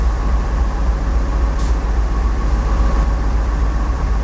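A CSX 4,400-horsepower AC-traction diesel locomotive in a train simulator, idling with a steady low engine rumble and drone, plus a brief hiss of air partway through, no voices.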